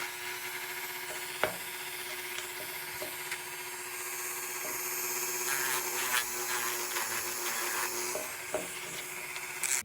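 A small rotary tool with a sanding drum whirs at a steady high pitch while smoothing seams along the barrel of a model horse, with a soft grinding rasp and a few light knocks, fairly quiet and close.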